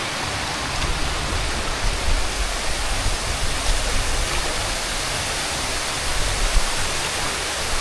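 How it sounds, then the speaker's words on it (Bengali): A steady, full roar of a waterfall in Rangamati heard up close, continuous and unbroken with no voices. "এই যে ঝর্ণাটা নেমে এসেছে।"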